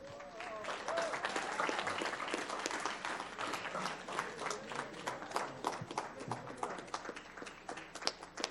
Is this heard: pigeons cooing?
no